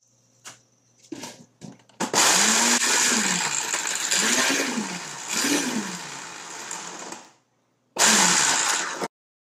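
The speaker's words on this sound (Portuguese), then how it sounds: "Após muitos minutos batendo no liquidificador" A few clicks and clunks, then a blender whirs loudly, its motor pitch dipping and rising as it churns cooked cauliflower into a thick paste, stopping and restarting briefly.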